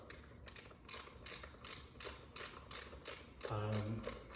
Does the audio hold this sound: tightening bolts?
yes